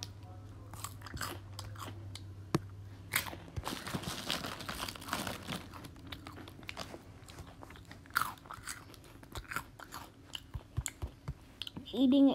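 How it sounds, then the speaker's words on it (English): Close eating sounds: crunchy bites and moist chewing come in irregular bursts, with some crinkling between them and a faint murmur of a voice in the background. "Eating ASMR."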